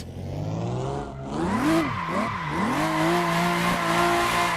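Simulated car drifting in Assetto Corsa, a loud steady engine drone with pitch swooping up and down as the rear slides into oversteer, continuous tire noise throughout, no talk.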